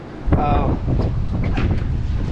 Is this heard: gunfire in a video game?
no